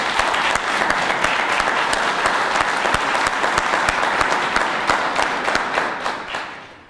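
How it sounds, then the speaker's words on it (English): Crowd applauds a police chief at an Atlanta Police Department press conference, brisk crisp clapping with distinct hand strikes, steady then tapering off at the end. "deserves a huge round of applause"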